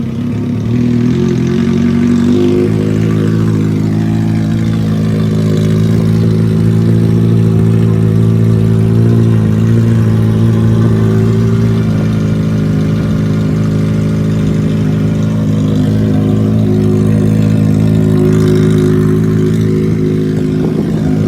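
A Kawasaki ZX6R motorcycle engine runs loud and close after a cold start, holding a steady, rough idle with the revs rising slightly early on and then staying sustained and even throughout.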